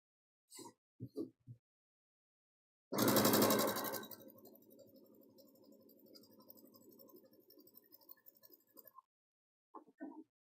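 A sewing machine stitches a seam on a quick table runner: a loud burst as it starts, then a steady whirring run for about five seconds, with a few small clicks before and after.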